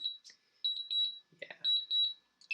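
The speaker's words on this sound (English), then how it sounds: "Sorry, it's a really loud beep." A Mavic Pro drone sounds its loud, high-pitched warning beeps while landing at sunset, repeated in quick bursts close by, with someone talking briefly between them.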